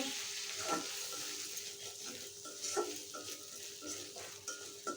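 Chili and coriander powder sizzle in a hot frying pan with oil and green chilies while a fish and potato curry cooks, giving a steady crackling hiss with occasional stirring scrapes, close and alone.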